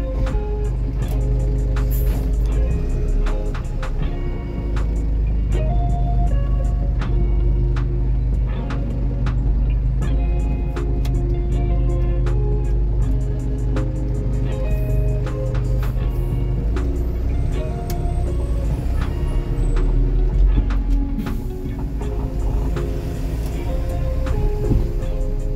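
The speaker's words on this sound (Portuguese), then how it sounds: "Vamos manobrar agora o caminhão aqui, vai jogar a frente ali, vai entrar de ré ali no local." A truck maneuvering and reversing on a street, heard as a steady loud engine rumble with continuous low drone and scattered clicks and knocks throughout; no clear speech in the clip.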